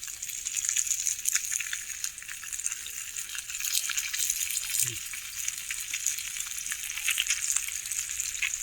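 Fresh tilapia from a dam frying in oil on a griddle pan outdoors, a loud continuous crackling sizzle that holds steady throughout with no talking.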